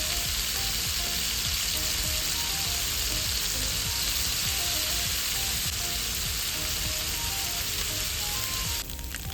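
An egg frying in a pan gives a steady, close, crackling sizzle that runs unbroken throughout, with faint background clinks and no talking.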